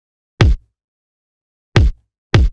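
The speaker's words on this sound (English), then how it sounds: "For the bass drum, I use two different layers" Layered hardstyle kick made of two combined layers hits three times, each a punchy, booming thump with a short decaying tail: one hit alone, a long gap, then two hits close together, loud and dry with no talk.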